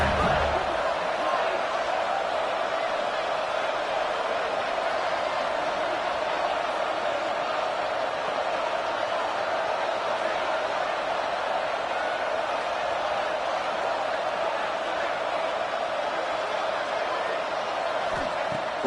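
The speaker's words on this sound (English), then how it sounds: "Crowd getting cranked up, trying to help this defense on the final drive" A football stadium crowd roars steadily during a championship game's final defensive drive, a dense, loud, unbroken wash of cheering that holds for the whole stretch with a commentator talking over it.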